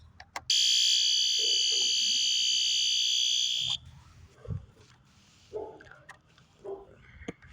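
A fire alarm horn blares a loud, continuous steady tone for about three seconds, then cuts off, leaving quiet room noise and a few soft clicks and knocks.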